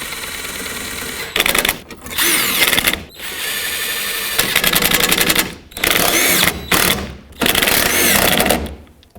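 A power tool tightens the mounting nuts of a tow mirror on a 2004-2015 Nissan Titan, giving loud whirring bursts of a second or two each, several in a row with short pauses between them.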